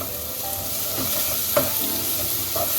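Chopped onion frying in a pan with garlic-ginger paste for Pakistani daal mash, a steady loud sizzle broken by scraping stirs of a spoon, with no voices.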